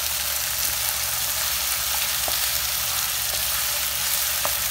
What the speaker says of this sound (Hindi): चिकन हमारा ऑलमोस्ट हाफ फ्राई हो चुका है।